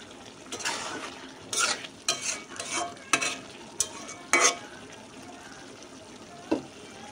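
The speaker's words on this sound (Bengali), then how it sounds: "শুটকি বোনাটা আস্তে আস্তে হইতেছে।" Dried fish (shutki) being fried in a pan over medium-low heat, the soft sizzle broken by scraping, stirring strokes and the clink of a utensil against the pan, close up, with no talking.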